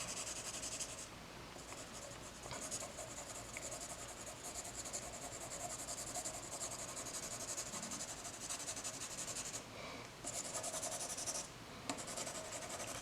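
Pencil shading a sphere drawing on paper, a soft continuous scratchy rubbing of graphite strokes that runs steadily throughout with only brief pauses, close and quiet.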